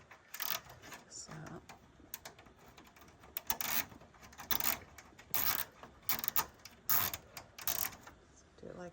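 Plastic zip ties are ratcheted tight on a Ford Super Duty truck grille, giving close, repeated zipping clicks in short bursts with pauses between them.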